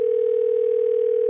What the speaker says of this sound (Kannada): ಸರಿ ಟಿ ಕೆ ಸತೀಶ್ ಫೋನ್ ಮಾಡಪ್ಪ